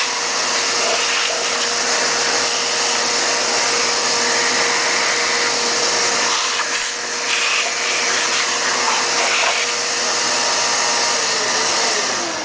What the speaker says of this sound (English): We'll go ahead and vacuum all this up real good.